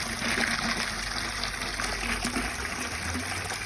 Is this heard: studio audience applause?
no